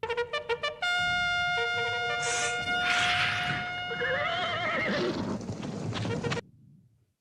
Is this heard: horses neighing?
yes